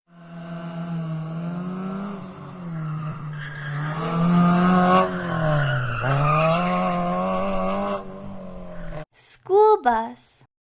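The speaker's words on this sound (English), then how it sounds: "Race car." A race car engine howls with a rising and falling pitch as it revs through several gear changes, loud and close, followed by short sharp tire squeals at the end.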